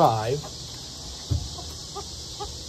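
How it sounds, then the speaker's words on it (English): Young roosters and hens give a short vocal call at the start, followed by a few soft, scattered clucks against a faint background of chirping insects. "These are our young roosters."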